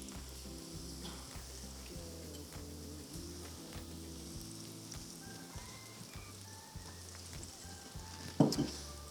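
Steady sizzling and crackling of pork belly frying in hot oil in batches, close and continuous, with a low rhythmic hum underneath and a brief clatter near the end.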